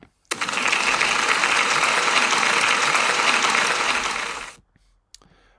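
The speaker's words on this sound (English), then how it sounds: "Can we give Rosalie a big round of applause, please?" A school audience applauds a pupil with a sudden, dense burst of clapping that holds steady for about four seconds, then tapers off into near silence.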